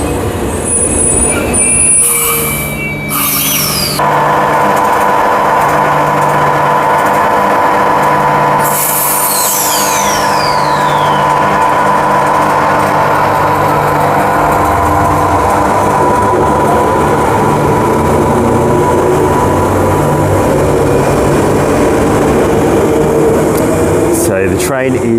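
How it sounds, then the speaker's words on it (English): A Transperth A-series electric train pulls slowly out of City West Station in Perth, with a steady motor whine and air-conditioning hum, a brief air-brake hiss, and someone talking over it close by. "So the train is taking off a bit slowly here."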